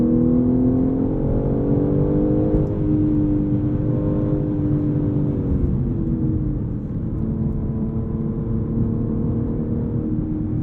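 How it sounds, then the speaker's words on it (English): A 2023 BMW M3 Competition xDrive's engine drones steadily from inside the cabin while driving, a continuous loud note with rising and falling harmonics as revs shift, and no talking over it. "I like that engine note more as I hear it."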